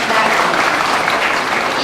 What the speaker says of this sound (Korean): 선생님께 다시 한번 큰 박수 부탁드립니다.